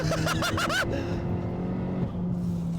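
A 485 bhp Vauxhall Astra VXR accelerates hard. A loud, close engine note sweeps quickly upward in pitch through a couple of rapid gear changes, then settles into a steady, sustained roar.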